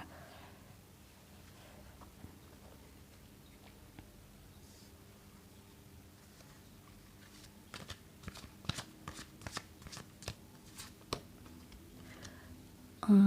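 Tarot cards are shuffled close by in a quiet room, first soft and low, then a run of sharp, irregular card snaps and clicks that grows busier toward the end.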